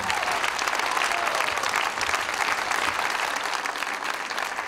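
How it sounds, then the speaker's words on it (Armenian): Sustained audience applause for dancers at a live concert in an arena, a dense, steady wash of clapping from a large crowd filling the whole stretch without pause. "Եք մի հատ ծափարենք այս գեղեցիկ պարողներին։"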